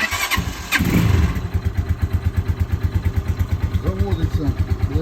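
A KTM Duke-based motorcycle built to look like a Mustang ST 200 cranks with a whirring starter, catches and settles into a close, rhythmic single-cylinder idle, with a voice speaking briefly near the end.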